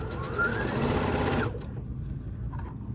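A sewing machine runs a straight stitch on a bucket hat for about a second and a half, loud and close, then cuts off into quiet room sound.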